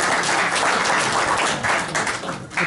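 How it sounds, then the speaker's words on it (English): A crowd breaks into a round of applause, a dense, steady patter of clapping at moderate volume that carries on briefly and dips slightly toward the end. "give him a round of applause"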